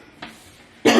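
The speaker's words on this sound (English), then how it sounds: "Sorry for my coughing." One person coughs indoors during a room-cleaning session: a faint short cough, then a loud, harsh burst close to the microphone at the end.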